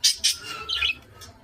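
A pet budgerigar gives a few close, bright chirps followed by a short squawky warble, with brief pauses between the calls, and no speech.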